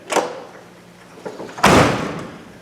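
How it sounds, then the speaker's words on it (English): A C3 Corvette door is shut twice: a lighter thump first, then a firmer, louder solid thud with a short decay, heard up close with no talking. "That's a lot different than the first time I shut this door on camera."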